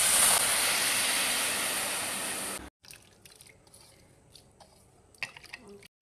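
Water pours into a hot pan holding dry fish and radish, making a loud, rushing hiss for about two and a half seconds that stops abruptly, followed by faint scattered clinks and bubbling.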